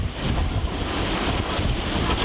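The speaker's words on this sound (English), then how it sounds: "Windy." Strong wind buffets the microphone in a loud, rushing roar, with a surf-like wash underneath.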